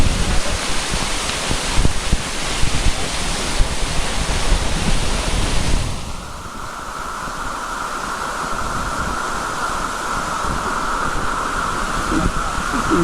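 Sea waves wash and surge up close in a continuous broadband roar mixed with wind buffeting the microphone. The sound thins and quiets partway through, then settles into a steadier hiss.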